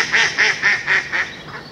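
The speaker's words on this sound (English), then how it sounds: "In answer to that mallard." A mallard duck quacks by a village duck pond opposite a church, giving five or six evenly spaced, nasal calls in a steady rhythm, fairly close and clear with no talk over them.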